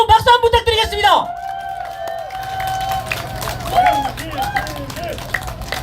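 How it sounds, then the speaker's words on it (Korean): Rally crowd at Seoul Station clapping and cheering in a steady broad wash after a voice ends, with scattered whistles and shouts above the applause. "우측 국민은 좌측 국민에게 뜨거운 박수 한번 부탁드리겠습니다"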